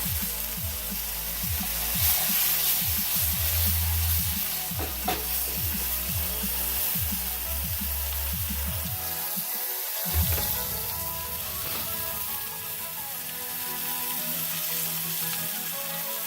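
Sirloin steak searing in a hot pan gives a steady, close sizzle throughout, with a rhythmic series of low thumps early on that stops partway through, leaving the frying hiss alone.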